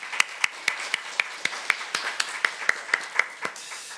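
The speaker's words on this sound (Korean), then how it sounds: "하나님께 영광의 박수 올려드리겠습니다" A church congregation clapping in unison, about fourteen sharp, evenly spaced claps in a steady rhythmic beat, moderately close and fairly loud, with no talking over them.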